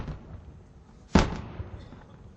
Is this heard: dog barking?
no